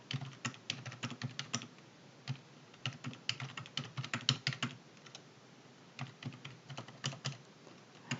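Numbers are entered on a computer keyboard into an Excel sheet. Soft, close key taps arrive in irregular clusters separated by brief pauses, with no voices.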